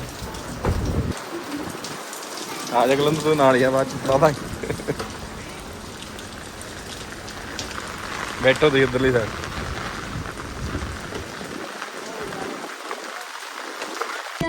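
Heavy rain pours outside a home during a family visit, a loud constant hiss with drumming on surfaces, while people talk over it in two short bursts.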